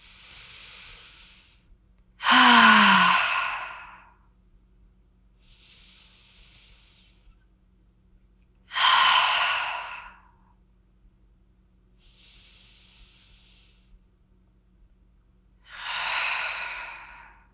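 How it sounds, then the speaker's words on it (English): Three slow, deep breaths during a restorative hip exercise class, each drawn in through the nose and released as a long, loud sighing exhale through the mouth, spaced several seconds apart with quiet pauses between. "Let's make those breaths come in through the nose and out through the mouth."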